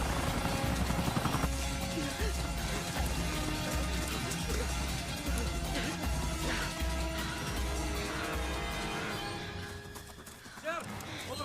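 A helicopter's rotors thump low and steadily in a dense, busy movie soundtrack, with voices and other action noise over them.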